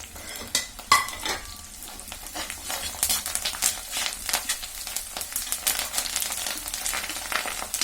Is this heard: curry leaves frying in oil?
yes